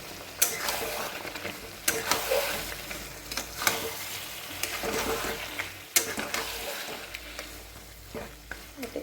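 Boiled mutton with turmeric stir-fried in a pan, a soft continuous sizzle under frequent sharp scrapes and knocks of a spatula against the pan, close up, no talking.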